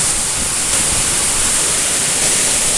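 Rushing water pours through a roadside drainage on the Zeballos main line during rain on snow, a loud, constant broadband roar close by with no break and no voices.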